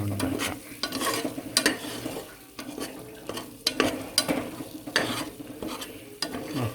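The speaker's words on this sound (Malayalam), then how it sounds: "നല്ലോണം വഴറ്റാം." Spiced masala sautéed with chopped leaves and curry leaves in a pan for Malabar biriyani, with steady stirring scrapes and a soft sizzle running throughout, close and moderately loud.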